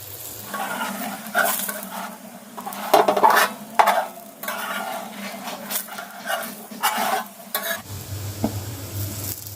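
Corn roti cooks on a griddle with ghee, giving a soft sizzle broken by close scraping and stirring clatters at an uneven pace, with a low steady hum near the end.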